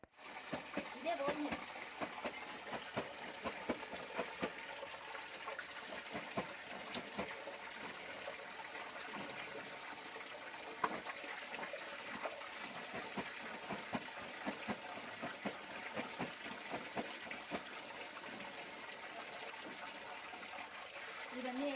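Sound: washing clothes by hand with water

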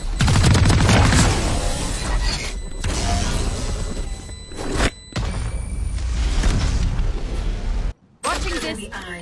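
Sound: Swarm grenade exploding in the video game Valorant

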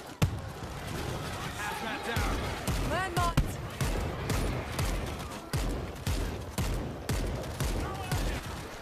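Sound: gunfire in video game World War Z

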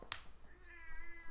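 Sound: cat meowing

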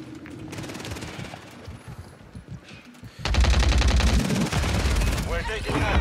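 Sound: gunfire in a video game

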